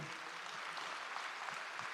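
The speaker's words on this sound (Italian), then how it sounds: "un applauso forte" Audience applause for the Gesturi polyphonic choir at a folk song and music festival in Tonara, a steady dense wash of clapping held at an even level throughout, fairly distant and without voices.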